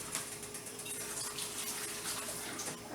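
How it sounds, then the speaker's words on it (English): Excess water poured out of a pasta pot during cooking, a steady, hissing splash of running water, fairly faint and continuous throughout without any talking. "I have a lot of water in here. I think I can pour some of that out."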